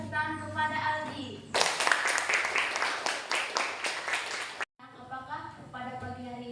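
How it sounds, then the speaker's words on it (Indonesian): Children in a classroom clap for a classmate named Aldi, a dense burst of applause lasting about three seconds, set between stretches of someone talking. "Beri tepuk tangan kepada Aldi."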